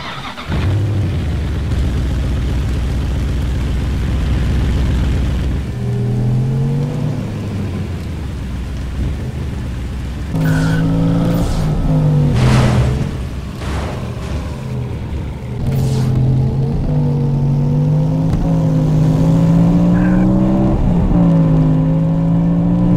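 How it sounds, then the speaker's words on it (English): A DMC DeLorean driving and floating in a Roblox game, with a steady engine hum that rises and falls in pitch as it accelerates, loud and continuous alongside a rain-like wash and occasional sharp bursts. "In this game, you can buy the DMC DeLorean, and it can actually float when you drive in it."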